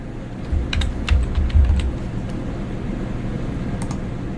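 Quick bursts of keyboard typing, a few clustered keystrokes early on, then a quiet steady room hum with a faint click or two.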